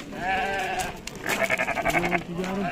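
Male lambs for sale at a livestock market bleat in wavering cries, close and fairly loud, with a rapid quavering call near the end over background noise.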